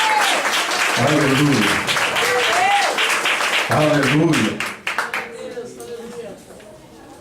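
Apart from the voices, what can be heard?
congregation applauding in church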